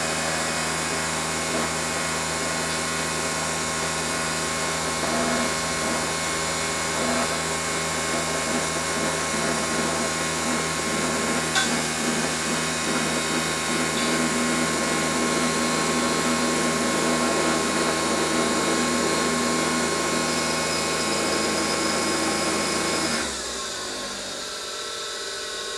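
Mini milling machine cutting aluminum, a steady loud whine and mechanical drone holding for about 23 seconds before the cut stops abruptly and the sound drops to a lighter motor hum.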